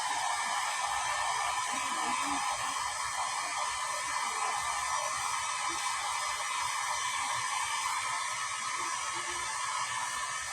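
A steady, loud pet blower drying a dog in a garage roars continuously with a broad airy hiss throughout, no breaks or talking.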